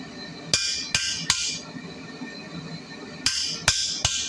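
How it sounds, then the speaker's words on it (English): Blacksmith's hammer striking a curved walking chisel to cut a beard into forged metal: three sharp ringing blows, a pause, then three more, loud and close in a quiet workshop. "I'm going to make a long chisel cut for his beard"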